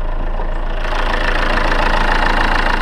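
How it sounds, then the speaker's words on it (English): A 2014 Chevrolet Cruze's 2-liter turbo diesel idles with the hood open, giving a loud, steady, close clatter and hum with a knocking diesel rhythm and no talk over it. "it gets pretty noisy once you open up the hood"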